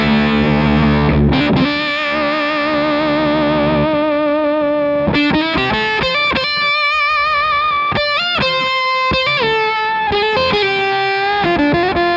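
Electric guitar run through a Jackson Audio Modular Fuzz pedal with only the octave section engaged, giving loud, thick, distorted sustained notes and chords with a synthetic upper-octave shimmer. It plays alone, with no talking.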